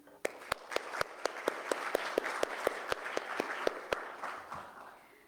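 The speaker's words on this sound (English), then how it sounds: "A round of applause for your efforts," Slow, sparse clapping at a Women's Day celebration at the Consulate General of India in New York, with sharp individual claps in an even rhythm over soft room murmur, somewhat distant.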